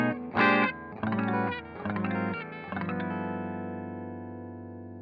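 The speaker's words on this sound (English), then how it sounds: "You can use this mid boost to push the input of the amp, and it sounds fantastic." A 1979 Ibanez ST200 electric guitar with its active EQ mid boost pushing an amp into drive: several strummed overdriven chords, then a final chord left ringing and slowly fading, played alone.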